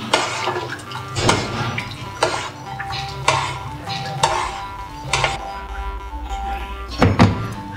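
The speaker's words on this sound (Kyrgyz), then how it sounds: "Сапыруу жолу менен кайнатабыз." Kuurma tea of milk and butter boiling in a pot while being ladled and poured, with repeated clunks and thunks of the ladle against the metal at an irregular rhythm, close and fairly loud.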